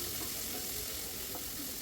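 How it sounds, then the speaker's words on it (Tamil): A finely chopped large onion sautés in hot oil with spices for a chicken kulambu, giving a soft, steady sizzle and hiss with a faint scrape near the end. "வெங்காயமும் போட்டு வெங்காயத்தை நல்லா வதக்கிக்கோங்க."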